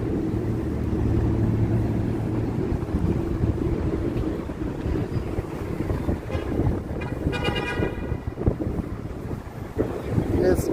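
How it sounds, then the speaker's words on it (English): Strong wind buffeting outdoors on a New York City street, a loud steady rumble across the microphone, with distant traffic and a brief faint horn-like tone near the end. "Wind is picking up pretty strong."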